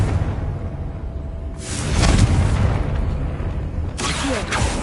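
Two blasts from the Confringo fire spell in Hogwarts Legacy, each a sudden loud whooshing boom several seconds apart, set over quiet game ambience.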